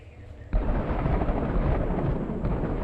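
Thunder from lightning in the video game Earth Blast breaks in with a sudden loud crack and then rolls on as a heavy, sustained rumble, with no talking.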